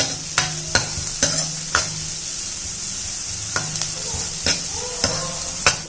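Chopped onion, garlic and cumin sautéing in a pan for soap noodles: a constant close sizzle punctuated by about a dozen sharp scraping stirs of a spoon against the pan, irregularly spaced, with no talking.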